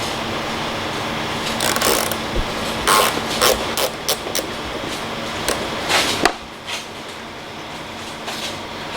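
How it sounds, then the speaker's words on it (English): A hand ratchet loosening bolts on a Peterbilt 567 truck visor, close-up bursts of rapid clicking and metallic clanks in irregular spurts, ending with a sharp knock followed by quieter rustling. "Start taking all these bolts off."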